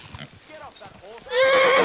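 A horse in Kingdom Come: Deliverance II lets out a bright, rising whinny near the end, following soft hoof clops and a few short voiced sounds in the game.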